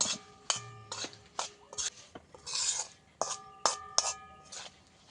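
A spoon clinks and scrapes against a bowl while spices are mixed into green chilli pickle, producing a series of sharp, fairly regular taps with quieter rubbing between them.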